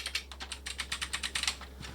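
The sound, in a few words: typing on a mechanical keyboard for Atari 600XL/800XL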